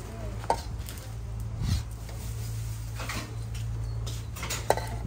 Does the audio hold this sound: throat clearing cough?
no